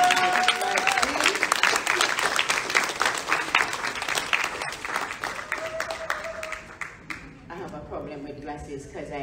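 Audience clapping fills a live talk event with a dense, loud patter that gradually thins and fades, overlapped by cheering voices and a speaker talking throughout.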